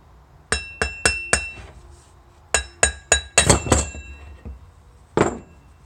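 A go-kart torque converter for a Predator 420 engine has its outer cover pulled off, giving a run of bright metallic clinks and rattles in quick bursts, then a pause and one final clink.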